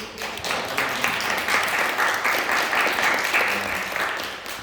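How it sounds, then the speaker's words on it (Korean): Congregation applauding in church, a sustained round of clapping from many hands at moderate distance, steady throughout with a slight swell in the middle. "박수로 여러분들"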